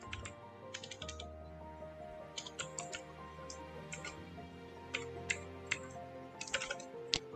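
Python code is typed on a computer keyboard in quick irregular clusters of light key clicks, close and quiet over a low background hum.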